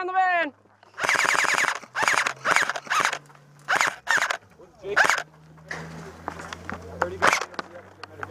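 Airsoft guns fire in rapid bursts at a van on an airsoft field, the crackling volleys broken up by loud shouting voices nearby.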